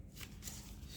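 Colour paper being creased and folded into a paper aeroplane, giving a few soft, crisp rustles and crinkles, quiet and close with no talking.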